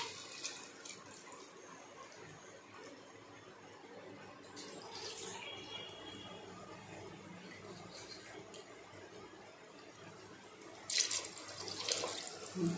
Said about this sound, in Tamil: ஃப்ரெண்ட்ஸ், இதே டம்ளரில் நம்ம கிட்டத்தட்ட 4-5 டம்ளர் வரைக்கும் தேங்காய் பால் சேர்த்துக்க போகிறோம்